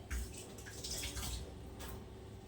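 Water poured into a pot of cooking mutton, a short, close, splashing gush of liquid that runs steadily for a couple of seconds without talking.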